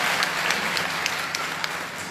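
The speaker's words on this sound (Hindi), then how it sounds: "एक बार श्री गुरुदेव के लिए जोरदार तालियां बजाएं" An audience at a Srimad Bhagwatam gathering in Baghpat applauds the guru, a continuous wash of many hands clapping fairly loud and steady throughout.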